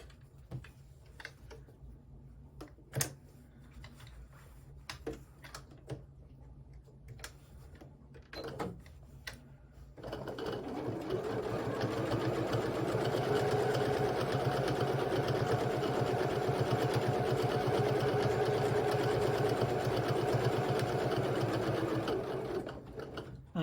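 A sewing machine runs steadily while quilting a fabric bag, a fast even whirring stitch that starts after a few soft clicks and handling sounds and carries on alone for over ten seconds.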